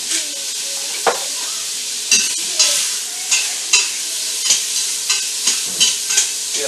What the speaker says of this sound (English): Get that all seared up nicely.